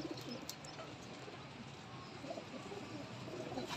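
High-flying pigeons coo softly on a rooftop in Rawalpindi, a faint low cooing over a steady outdoor background.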